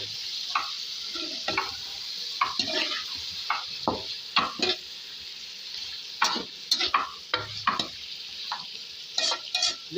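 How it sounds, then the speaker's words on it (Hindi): Meat frying with browned onions in a pot as it is stirred, with bursts of scraping and clattering from the spoon over a continuous sizzle, close and uneven in rhythm. "ये देखो गोश्त जो है वो भी साथ फ्राई हो रहा है।"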